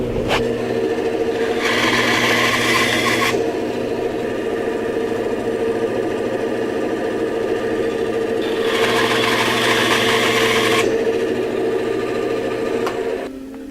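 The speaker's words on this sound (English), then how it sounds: "Then I'll trim these on the bandsaw here for the lengths I need." A bandsaw trims wood pieces to length for a shaving stand: a steady, close motor hum with two harsher cutting passes, each lasting about two seconds, several seconds apart.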